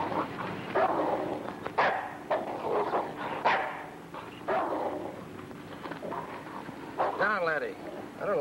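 A dog barks and yips several times at close range, with a whimpering sound near the end, mixed in with people talking.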